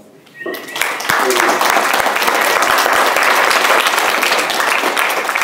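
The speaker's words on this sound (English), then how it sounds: "if you give him a round of applause, that'd be great" Convention audience applause for presenter Tim Collins starts after a brief quiet moment and swells into loud, sustained clapping from a crowd that holds steady to the end.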